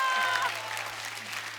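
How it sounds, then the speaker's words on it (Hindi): A studio audience on The Kapil Sharma Show claps enthusiastically in a dense, steady wash of applause, with a brief tonal sound over it at the start. "Put your hands together, everybody."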